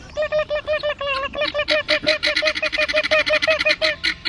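Guinea fowl call on a roadside in rural Cambodia, a loud, rapid series of harsh, repeated honking cries that speed up into a continuous rhythmic chatter, close by and with no talking.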